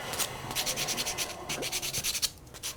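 End of a wooden honey dipper being rubbed against sandpaper, a rapid rhythmic series of close, gritty scratching strokes, steady and moderately loud, with no talking.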